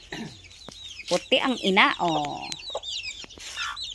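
Free-range backyard chickens at a provincial home, including a special white-mothered brood, cluck in repeated short bursts close by while people talk over them.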